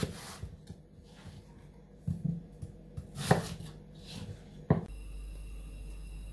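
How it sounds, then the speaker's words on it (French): A knife cuts large apple quarters in half on a board for tarte tatin, giving a few soft, spaced thuds and scrapes against quiet kitchen background, no talk. "donc moi j'ai des quartiers qui sont quand même assez gros, donc je vais les recouper en deux"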